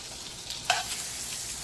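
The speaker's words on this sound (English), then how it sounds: "Let me fry that a little bit more." Tilapia fillets sizzle in olive oil and butter in a pan, a steady soft hiss with one brief sharper crackle near the middle, close by and with no talking.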